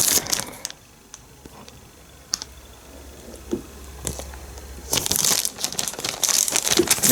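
An external black DVD drive being unboxed from plastic packaging, with scattered close crinkles, taps and rustles, then a denser burst of plastic crumpling toward the end, no talk.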